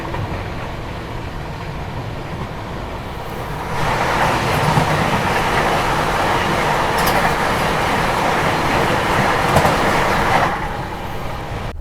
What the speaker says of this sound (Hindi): अभी देखो सामने से आ रही है चेन्नई मैसूर वंदे भारत एक्सप्रेस।